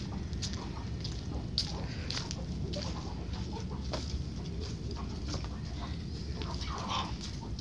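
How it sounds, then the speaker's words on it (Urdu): A hen clucks in short, scattered bursts amid a dense, steady background of other chickens and barnyard noise, close to the recording point. "ایک مرغی اور چھپی ہوئی تھی،"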